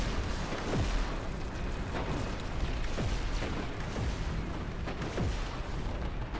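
Orbital strike explosions in the Planetside 2 video game, a dense run of repeated booms and blasts over a noisy battle backdrop, fairly quiet overall, with no voices.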